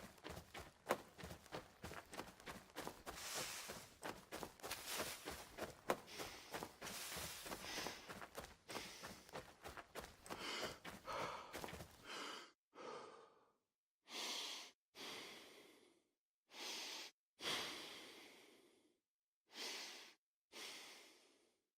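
Heavy, labored breathing recorded binaurally for video game stamina, close up, rapid and panting at first, then slowing into long, spaced exhales and inhales separated by silence.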